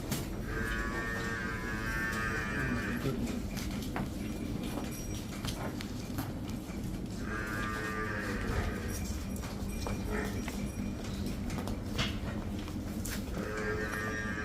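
Buffalo moo in long, drawn-out calls at a dairy farm, with three separate lowing bouts standing out over a steady, busy background of farm noise.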